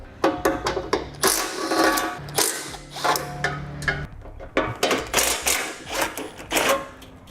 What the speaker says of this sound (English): Now we need to remove the 4 13mm bolts that hold our bumper beam in place on each side